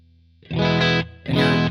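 Electric guitar played through a Lunastone Boost 18 clean boost pedal, two loud sustained chords struck in quick succession, the second ringing out after a brief gap.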